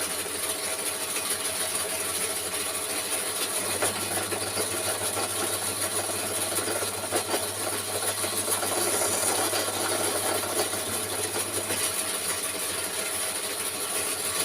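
A drill bores into metal for a gauge 1 model locomotive build, a steady motor whir running continuously with a low hum joining partway through, close and alone without talk.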